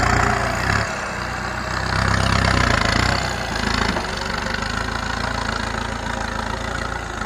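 A Kubota M6240 tractor engine idles steadily up close, a deep continuous rumble with a slight rise in the middle and no talk over it.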